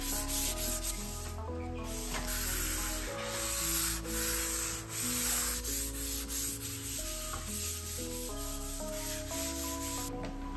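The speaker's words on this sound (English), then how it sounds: "I always liked using a soft high grit sponge to smooth out the primer afterwards." A soft, high-grit sanding sponge smooths primer on a piece of furniture with a steady, continuous rubbing sound, close by, while tonal music plays in the background.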